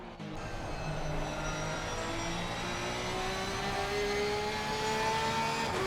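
A Porsche race car engine roars round the Nürburgring Nordschleife in a racing game endurance event, loud and sustained with rising and shifting tones as it accelerates through gears, no voices over it.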